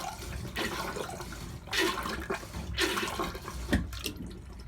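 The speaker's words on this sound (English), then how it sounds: "if we move the selector switch to the left and pump the pump, this will bring in water and empty the toilet at the same time." Manual marine toilet on a sailboat being pumped by hand to draw in seawater and flush, giving repeated gushing, sloshing strokes at close range with no talking.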